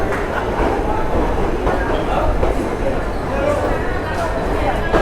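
A sleeper-class train pulls out of Jalandhar City Junction with a steady rolling rumble and rattle heard from inside the coach, loud and continuous, while someone talks over it.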